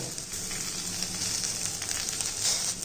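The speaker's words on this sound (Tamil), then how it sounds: "இதை வதக்கிக்கிடுவோம்." Chopped green chilies sizzle in a hot pan, a continuous bright hiss holding steady throughout with no talking.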